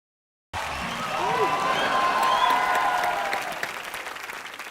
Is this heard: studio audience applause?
yes